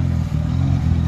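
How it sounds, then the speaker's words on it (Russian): A parked car's engine idles while warming up, a steady low rumble holding constant and close throughout with no revving. "машина стоит, прогревается"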